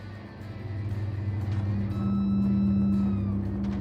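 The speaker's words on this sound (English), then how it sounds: "it's making engine noises as you're moving it" Vehicle engine in the video game Star Citizen, a low steady motor hum that builds slightly as the vehicle is moved, with a faint whine above it and no talk.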